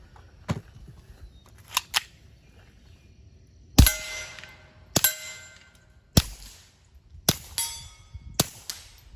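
A suppressed Keltec P17 .22 pistol with a Rugged Mustang suppressor fires Gemtech 42 grain ammunition: about seven sharp, clanging reports at irregular intervals, close and loud, with quiet pauses between shots.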